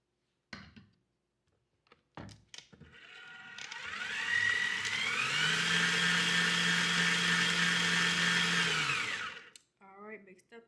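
An electric mixer whirs loudly for several seconds while blending cake icing, its motor spinning up to a steady high whine and then cutting off, with brief clunks and handling noises before and after.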